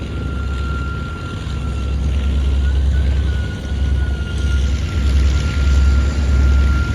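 A Lockheed L-1049 Super Constellation taxis before takeoff at an airshow, its piston engines giving a loud, low, steady rumble with a thin tone riding above it, mixed with gusting wind.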